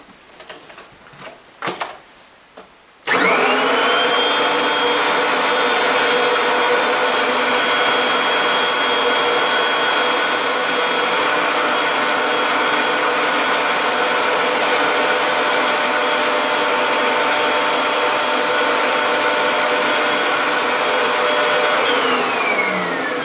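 A Kirby vacuum cleaner fitted with a hose and crevice tool switches on after a few seconds of handling clatter, then runs as a loud, steady whine with a high tonal hum that holds unchanged until the end.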